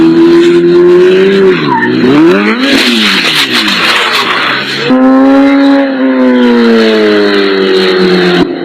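A race car's engine revs hard, its pitch sweeping up and down through shifts, while the tires squeal and skid loudly; a brief rear-tire tap is buried in the continuous close, loud roar.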